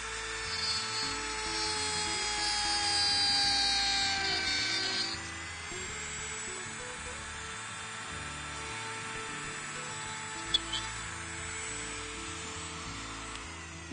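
Steady high-pitched whine of a small power tool cutting and drilling PVC for a lamp craft, running continuously with slight shifts in pitch and load, fairly faint, no talking.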